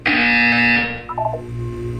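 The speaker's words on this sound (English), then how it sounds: "You will hear a buzzer." A loud, harsh electronic buzzer from the Portal 2 video game blares for nearly a second, then fades into a short descending tone sequence over a low hum.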